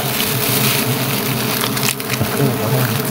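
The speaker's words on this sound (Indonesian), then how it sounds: "Nah, ini namanya lebah elek." Wild giant honey bees (Apis dorsata) swarm at their nest, producing a loud, dense, continuous buzzing hum close by, with a brief rustle partway through.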